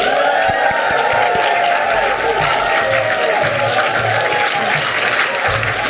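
Audience at a community awards event in Leeds, Yorkshire, breaks into sustained loud applause with cheering and whoops, a dense steady roar of clapping close by throughout, with no talk over it.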